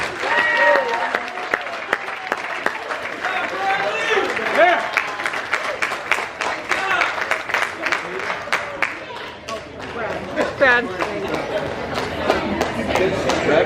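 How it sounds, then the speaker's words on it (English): Wedding reception guests break into a big round of applause after two toasts, dense clapping and cheering from a crowded room with chatter mixed in, sustained loudly throughout. "let's give another big round of applause to two wonderful toasts"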